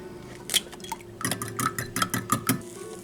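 Eggs being stirred in a pan give a quick run of metallic scraping and clinking from a utensil against the pan, about seven sharp strokes in a brisk rhythm, close and fairly clear.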